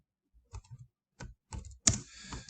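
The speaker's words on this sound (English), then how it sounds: "Let's type this in." A computer keyboard is typed on in short bursts of close, crisp key clicks separated by brief pauses, ending with a sharper louder clack, with no voices.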